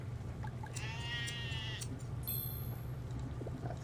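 A sheep in a video game gives a clear, wavering bleat lasting about a second, followed by a short higher call, over a steady low hum of game background noise.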